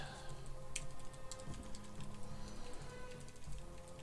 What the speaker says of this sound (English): Use keyboard for a second.